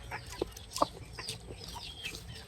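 Chickens in a kitchen area cluck softly and intermittently, with a few sharper calls standing out against quiet background noise.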